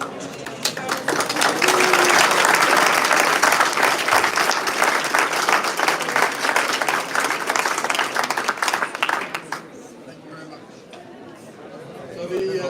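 A large audience at an international commercial arbitration moot court competition breaks into sustained loud applause with crowd chatter mixed in, swelling for about nine seconds before fading into quieter room murmur.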